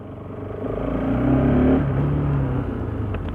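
A Bajaj Pulsar RS 200 motorcycle rides smoothly, its engine giving a steady close rumble that swells and dips slightly with throttle, mixed with road and wind noise.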